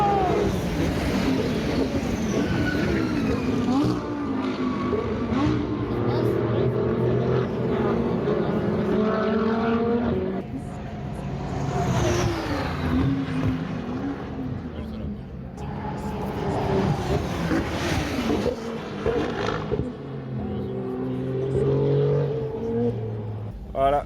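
GT2 race cars roar off the start at Circuit Paul Ricard during a GT World Challenge round, engines rising and falling loudly as they pass close by, with voices talking over them.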